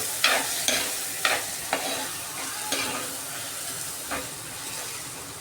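Chicken curry with salt and turmeric being mixed in a pot, a soft sizzle underneath several sharp spoon scrapes and clacks at an uneven pace, with one brief word spoken.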